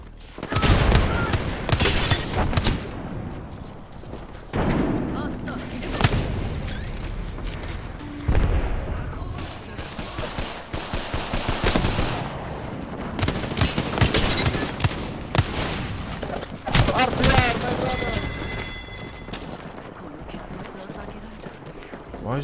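Bursts of automatic gunfire crack repeatedly in an Apex Legends match as a player shoots at a decoy, loud rapid volleys broken by short pauses and footsteps, with someone talking over the shooting.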